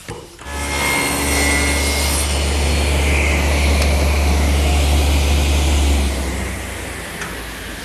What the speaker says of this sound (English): what I've done now is just tilted my dado head to 15 degrees and run a groove along the inside of the rail